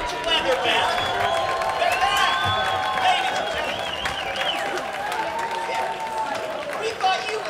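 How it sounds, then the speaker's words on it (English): An audience at a live cabaret theater show applauds and cheers, a dense continuous wash of clapping with whoops and voices mixed in, steady and fairly loud throughout. "Let's have a round of applause for Kiki and Herb live"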